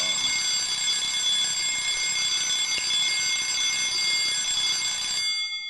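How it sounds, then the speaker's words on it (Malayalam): Alarm clock ringing at three o'clock, a loud continuous shrill electronic ring holding steady for over five seconds before cutting off abruptly. "ഇതാരാ 3 മണിക്ക് അലാറം വെച്ചത്?"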